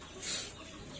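A farmed chicken gives a brief, faint cluck against quiet background noise, a single short call that rises and fades within a second.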